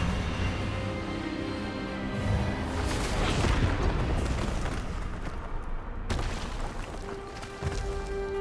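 An Expelliarmus spell in Hogwarts Legacy, heard as a rumbling magical blast that swells into a broad roaring burst, then a sharp crack near the end followed by a sustained tone.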